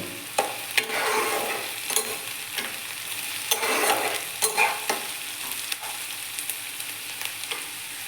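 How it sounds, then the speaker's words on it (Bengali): Chopped onion frying in a pan over a tempering of whole cumin and dried chili gives a steady sizzle, punctuated by repeated scrapes and knocks of stirring, with no one talking. "এখন আমি পেঁয়াজ কুচিটা দিয়ে দেব। আমি এখন এটাকে অল্প সময় ভেজে নেব।"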